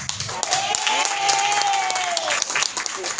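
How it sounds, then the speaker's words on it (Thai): An audience at a business event bursts into steady applause with crowd noise, while a sustained tone rises and falls beneath the clapping and voices come through faintly. "ขอเสียงปรบมือดังๆนะครับ"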